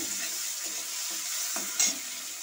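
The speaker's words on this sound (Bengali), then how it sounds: "টমেটো কুচিটা দিয়ে ভালো করে আমি নাড়বো।" Chopped tomato fries in a pan with a steady sizzling hiss while a utensil stirs and scrapes, with one louder scrape near the end.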